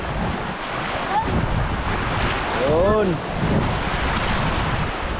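Sea waves surge and wind buffets the microphone on open water, a steady broadband roar with gusty swells, while someone talks briefly over it.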